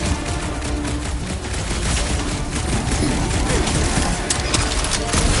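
Dense, continuous crackling bursts and booms of fireworks in the video game Guardians of the Galaxy, loud and unbroken throughout with faint voices underneath.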